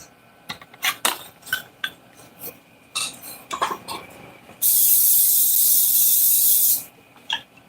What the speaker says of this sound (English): No stick cooking spray.